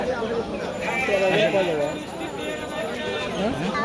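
Goats bleat in short wavering calls amid a busy crowd at a livestock market, with people talking over them throughout.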